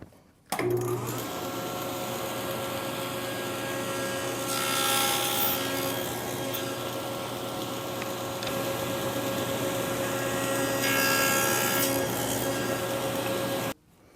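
A table saw cuts wooden slats for a tambour cabinet door, pushed through on a miter gauge carriage with a stop, giving a steady loud motor whine with two swells of blade cutting noise, with no talking.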